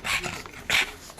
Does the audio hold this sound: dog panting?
yes